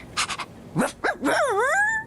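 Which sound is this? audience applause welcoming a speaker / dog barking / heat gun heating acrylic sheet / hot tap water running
dog barking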